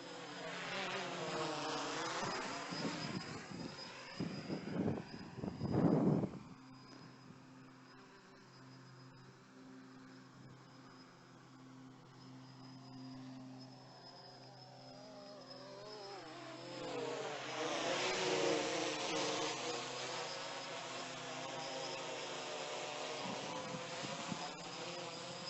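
Motors of a WLtoys V303 Seeker GPS drone run for a long stretch, a faint whirring whine that rises and falls in pitch as they speed up and slow down. Some handling knocks come through, with a louder burst early on.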